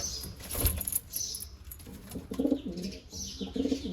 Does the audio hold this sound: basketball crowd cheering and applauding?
no